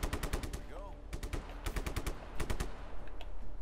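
Rapid gunfire in the video game Just Cause 3, with sniper shots among it: repeated sharp cracks come in quick irregular bursts over a steady low game rumble, and faint chatter sits underneath.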